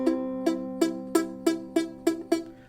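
Loog guitar strummed eight times in a steady rhythm, the chord sounding dull and partly choked where the finger pad lies on the first string; close, moderately loud, with no talking.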